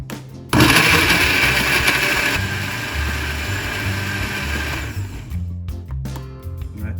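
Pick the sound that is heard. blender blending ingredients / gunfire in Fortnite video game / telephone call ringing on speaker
blender blending ingredients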